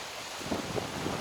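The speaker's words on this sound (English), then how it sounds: "It's windy." Steady outdoor wind beside a river on the way to a frozen waterfall, a broad rushing noise with a few gusty buffets against the microphone. It lasts just over a second, and no one speaks.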